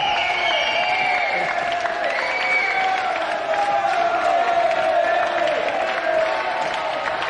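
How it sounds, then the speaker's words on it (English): A television studio audience at a video game show claps in sustained applause, a steady dense wash of hands with some cheering, close and even throughout. "A round of applause, Nigel and Adam Vulcan."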